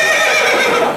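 A loud, close horse neigh fills the whole moment, a bright, shaky whinny that carries steadily from start to finish.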